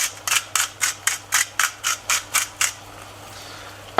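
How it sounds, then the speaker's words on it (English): A pepper mill grinding black pepper gives about ten quick, evenly spaced crunchy clicks, each twist crisp and close, then stops, leaving a faint background hum. "we're going to season it with freshly ground black pepper"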